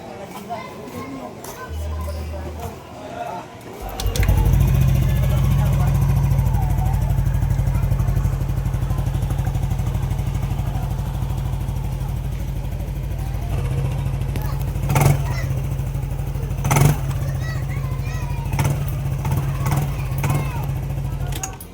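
Yamaha Nmax V2 scooter engine fires up after repair, a short cranking burst giving way to a steady, loud idle close by that runs on with a few sharp clanks.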